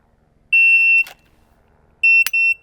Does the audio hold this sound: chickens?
no